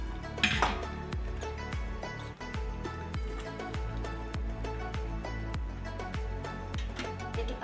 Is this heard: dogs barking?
no